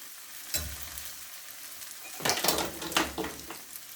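Raw potato tikkis made with egg fry in a pan with a steady, bright sizzle, broken by a few louder bursts of spatter and utensil scraping.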